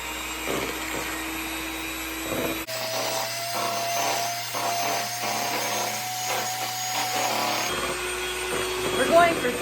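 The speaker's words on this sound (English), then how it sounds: "So, hand mixer." An electric hand mixer whisks eggs and sugar into cake batter for a sharlotka, a steady motor whine with rattling beaters running through most of the clip, with brief room noise at the start and end.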